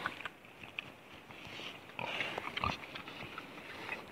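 Pigs grunt and snuffle close by, with short rough snorts and rustling over a steady farmyard background.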